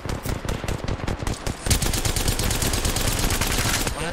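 Rapid automatic gunfire from an Apex Legends match, a rhythmic burst of shots that gives way to a sustained, denser rattle of firing.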